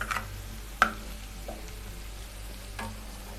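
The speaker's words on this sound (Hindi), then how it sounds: "अब मैं इसके अंदर ये थोड़ा सा साबुत ज़ीरा डाल रही हूँ।" Whole black cumin seeds (shahi jeera) sizzling in hot oil in a pan, a soft continuous hiss with a sharp clink early on and a couple of faint ticks, close and without speech.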